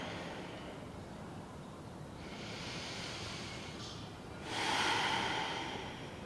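Slow, deep breaths during a yoga session, a soft airy inhale swelling into a louder, close exhale near the end, with no talking.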